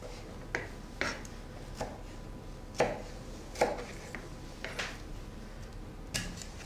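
A knife chops a tomato for a tuna quiche, with light, irregular taps on the board spaced across the clip, faint and close against a quiet background.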